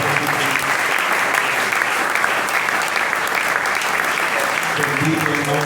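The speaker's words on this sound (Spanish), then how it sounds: "Denle ese aplauso al Señor Jesús." A church congregation breaks into loud, sustained applause that fills the room without a break, dense hand clapping from many people, with a murmur of voices mixed in.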